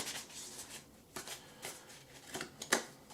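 Tarot cards are shuffled in several quick, soft riffling bursts with short pauses between them, close and quiet, with no voices.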